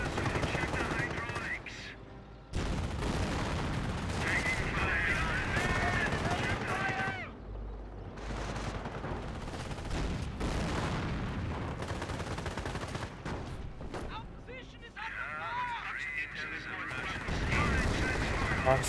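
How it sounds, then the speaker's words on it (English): Infantry gunfire from Company of Heroes, a World War II strategy game, with rifle and machine-gun bursts crackling on and off across the whole span, mixed with battle noise and layered under a narrating voice. "Infantry to firing away, get some good suppression there on the rifleman"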